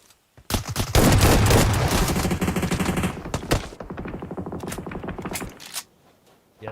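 Automatic weapons spray in the mobile battle royale game PUBG Mobile during a competitive match, with loud sustained bursts of rapid gunfire followed by sparser, fainter shots trailing off to quiet.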